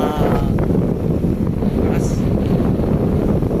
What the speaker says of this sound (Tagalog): Kasi mataas, lakas ng hangin